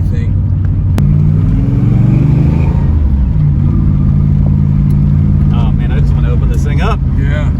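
A collector car accelerates hard on a residential street. The engine is loud and close, its revs climbing in rising sweeps, then it shifts gear and keeps pulling strongly.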